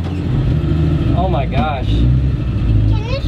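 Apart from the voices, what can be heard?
1963 Chevy C10 truck engine on first drive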